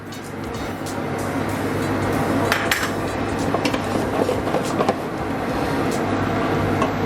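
Stirring a purée and sauce in a metal pan while cooking pasta, with steady scraping and clinking of a utensil against the pan over a low kitchen hum, moderately close, some sharper knocks midway, no talking.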